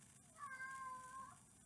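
A single drawn-out cat meow, fairly faint and close, rising and holding for about a second over a quiet room background.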